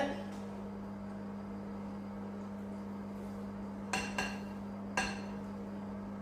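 A lid set onto a pot of chicken tajine, giving two quick metallic clinks and then one more a second later, close and clear over a low steady hum.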